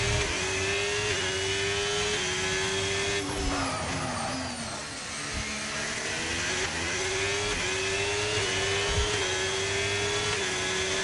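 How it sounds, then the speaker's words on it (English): A rallycross car competing in Azerbaijan revs hard and steadily with rising engine sweeps broken by sharp, aggressive upshifts, loud and close throughout with no voices. "The upshifts on this side, it just sounds so aggressive."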